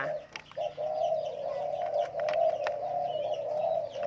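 Spotted doves coo in a steady, rhythmic series of soft mellow calls, close and clear, with a few faint chirps from other birds in the background.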